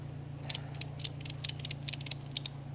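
Ratchet strap being cranked tight around a fish and storage box, a quick series of sharp clicking ratchet bursts over a low steady hum, close and fairly crisp.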